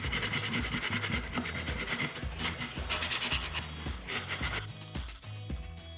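Sandpaper rasps against the wooden edges of a DIY laptop tray, with close, rhythmic back-and-forth strokes that scratch in quick repeated bursts.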